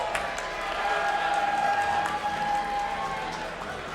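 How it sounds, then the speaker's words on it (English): Steady, dense audience applause and light cheering fill a championship esports hall for a finalist team at a Monster Hunter World: Iceborne tournament, a continuous wash of clapping with a faint tone running through it. "can I get a round of applause for the last final team, Team Kua, featuring TSC and Samgrass"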